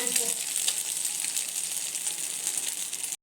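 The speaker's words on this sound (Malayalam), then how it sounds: "അതിന് മേലെ ഒന്ന് കുറച്ചുകൂടെ എണ്ണ ഒഴിച്ച് കൊടുത്ത് ഇതുപോലെ ഒന്നുകൂടെ തിരിച്ചിട്ട് കൊടുക്കാം" Bread coated in egg frying in oil in a pan after more oil is added and it is turned over, a steady, bright, close sizzle that cuts off abruptly at the end, with no talking.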